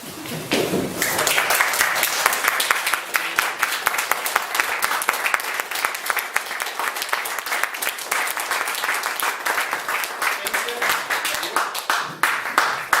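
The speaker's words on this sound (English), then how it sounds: "give yourself a round of applause, because you are the heroes" A Toastmasters audience stands and gives itself a long round of applause. Dense, loud clapping with distinct sharp individual claps continues for over ten seconds, with voices faintly mixed in.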